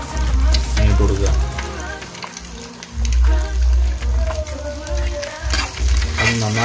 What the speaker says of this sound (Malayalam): അത് നന്നായിട്ട് സോട്ട് ചെയ്യുക.